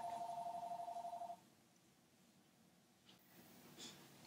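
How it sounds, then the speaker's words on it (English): A telephone rings with a steady pulsing electronic tone for over a second, then stops, leaving a quiet room with faint breathing and small movements. "I'm going to get ready to pause my video because my phone is ringing"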